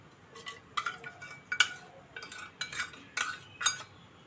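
Spices stirred into oil in a pan while preparing pabda fish, giving a run of close metallic scraping and clinking strokes of a utensil against the pan in irregular bursts.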